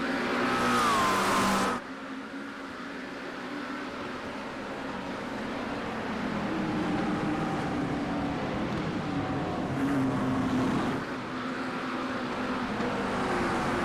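GT3 race cars in a racing video game, starting a race on the Chicago street course, with a dense steady drone of several engines running together, loud and continuous, revving slightly up and down with no talk over it.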